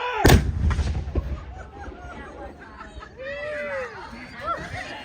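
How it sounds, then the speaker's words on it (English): A heavy artillery gun fires once at a demonstration, a sharp, booming blast near the start that rumbles away, followed by murmuring crowd chatter and scattered voices. "Gun 123, fire!"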